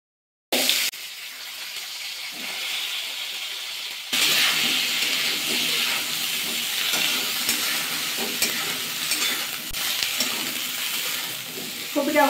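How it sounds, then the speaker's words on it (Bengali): Cauliflower pieces fry in hot oil in a home kitchen, giving a steady, loud sizzle with occasional stirring scrapes that picks up sharply after a quieter start and continues to the end. "এই তেলের মধ্যে কপিগুলো ভাজা করে নেব"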